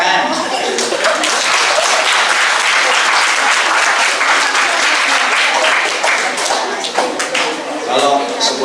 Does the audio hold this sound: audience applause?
yes